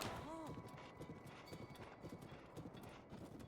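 Rhythmic hoofbeats of a horse galloping in The Legend of Zelda: Breath of the Wild, steady and fairly faint, with a short whinny near the start over low game ambience.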